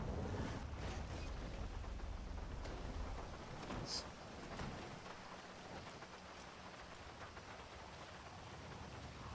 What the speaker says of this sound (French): Putain, il y a de l'orage, hein.